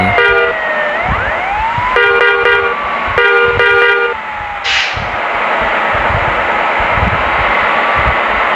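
A bus on the road sounds its musical multi-tone horn several times in loud, sustained blasts. Steady engine and road rumble runs underneath.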